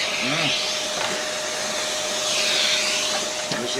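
A router fitted with a spiral cutter works through hard sash wood, cutting a rear access cavity with a jig in a bass guitar body. It makes a loud, sustained high whine close by that swells slightly midway, with no voice.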